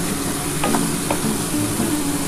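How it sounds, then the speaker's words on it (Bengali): Spice paste with white and black mustard is stir-fried in a pan for a fish curry, a dense continuous sizzle with a couple of brief utensil scrapes, loud and close, no talking. "একটু মশলাটা হালকা করে কষিয়ে নিই, খুব বেশি কষাবো না"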